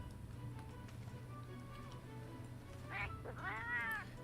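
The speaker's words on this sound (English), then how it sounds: "It's a cat." A cat meows twice in Final Fantasy XIV Stormblood during a Monster Hunter crossover. The short, faint, rising cries come near the end, over a low steady ambient hum.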